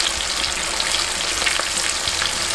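Filipino shrimp fritters (ukoy) fry in hot oil, giving a dense, steady crackling sizzle that stays loud and close throughout with no voices.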